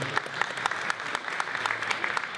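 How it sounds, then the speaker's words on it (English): Audience at a public Q&A presentation on the Lower Thames Crossing in East Tilbury breaks into a round of applause, sharp scattered claps from a modest crowd sounding fairly close and steady across the whole stretch. "Round of applause, people."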